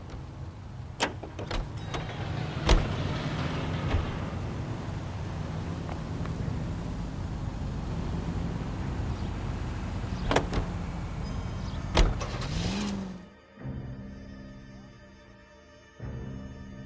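A car drives in the L.A. Noire video game, with a low steady engine hum throughout, a few sharp door or handling clicks, and a brief whir. It cuts off near the end, leaving a quieter drone.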